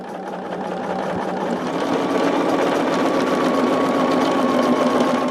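A sewing machine runs continuously through several layers of fabric on a picnic caddy seam, a loud, steady motor hum with a rapid mechanical chatter that holds even throughout.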